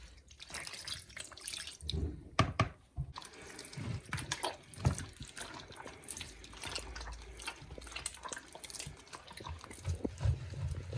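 Water is poured into pizza dough during hand mixing, giving faint, close liquid trickles, splashes and soft squelches of the wet dough, irregular and quiet throughout.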